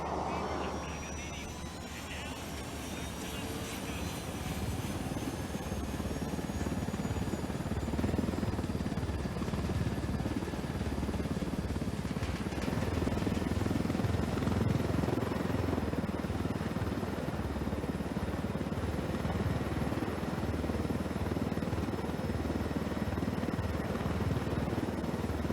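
Helicopter in the video game Ghost Recon Wildlands, a steady loud rotor-and-engine drone holding throughout, with no talking.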